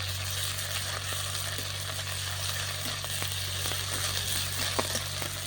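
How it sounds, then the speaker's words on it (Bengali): Ginger-garlic paste frying with onions in a pan over a clay stove gives a soft continuous sizzle, with occasional faint stirring clicks over a low steady hum. "পেঁয়াজটা ভাজা ভাজা হয়ে গেছে আবার দেবো আদা রসুন বাটা"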